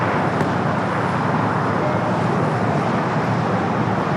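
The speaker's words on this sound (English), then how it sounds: "the A321 Neo now rolling down at 25 at right." An Airbus A321neo on its takeoff roll down runway 25 Right at LAX, a steady, loud broadband engine roar filling the whole stretch without a break.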